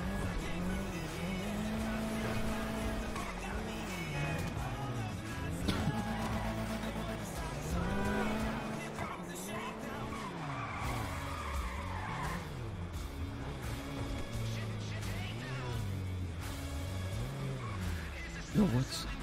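A car in the video game GTA V skids with squealing tires and a looping engine drone, steady and loud throughout, while people talk over it.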